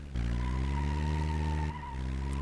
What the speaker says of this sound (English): It's a very, very chirpy wheel.